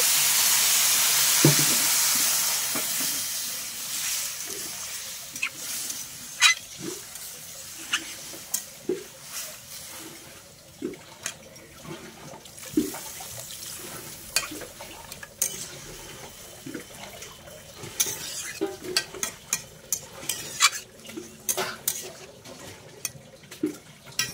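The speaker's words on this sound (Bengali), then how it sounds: "তরকারিটা কষানো হয়ে গেছে, এবার আমি জল দিয়ে দিচ্ছি।" Water poured into a pan of Malabar spinach curry after the spices have been fried, giving a splashy sizzle that settles into scattered bubbling, clinks and stirring taps close by, with no talk.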